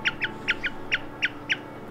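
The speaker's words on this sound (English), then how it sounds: "These are Tennessee red quail." Tennessee red quail on a farm give a rapid series of sharp, high chirps, about seven short calls in quick uneven succession, close and clear over a faint background.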